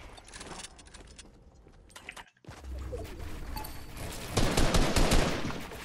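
Gunfire rattles in Fortnite, bursts of rapid shots and clicking, near and growing louder toward the end, with no one talking.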